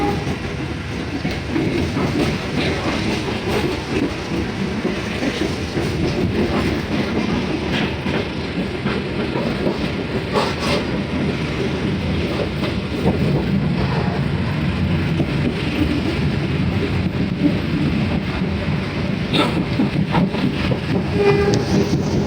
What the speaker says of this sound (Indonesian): Akhirnya kereta api Pandanwangi ini diizinkan berangkat kembali ya.